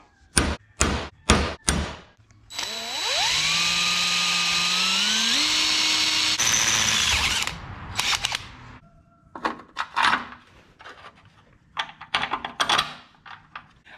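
A power drill bores holes in a metal switch panel plate for a Ford 8N tractor, a steady rising whine for about five seconds, framed by sharp clanks and handling knocks before and after.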